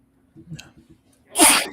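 A single sharp sneeze bursts out at close range, loud and breathy, after a few soft murmured sounds from the same person.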